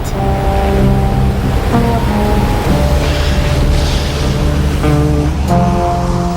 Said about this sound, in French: Ici, chaque hiver, viennent déferler les vagues les plus puissantes de la planète.